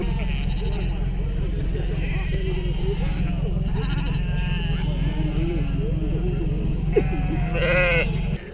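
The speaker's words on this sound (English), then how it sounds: "what are the sheep doing right now?" Sheep bleat in overlapping calls on a farm in Iceland, steady over a continuous low rumble, with people talking nearby.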